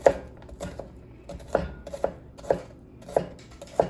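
A knife chops onions on a cutting board in steady, evenly spaced thuds, about seven crisp strikes, with no talking.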